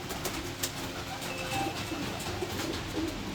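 Pigeons of the Jagga bloodline cooing in a loft, soft repeated coos over a steady background hum, with no talk.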